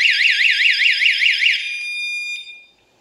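Emergency siren of an ATA 119R wireless door chime: a loud, rapidly warbling electronic wail for about a second and a half, then a steady tone that fades out.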